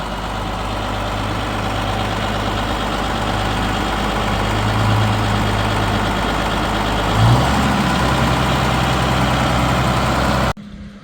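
A tractor engine drones steadily while spreading slurry on a field at about 3,000 gallons to the acre, a loud constant low rumble that shifts slightly near the end before cutting off.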